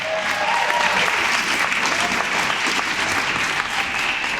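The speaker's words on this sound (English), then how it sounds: "All right, round of applause for Ismael." An audience at a hemophilia community event claps for an honoree, a steady, dense burst of applause from many hands that holds evenly throughout without any talking.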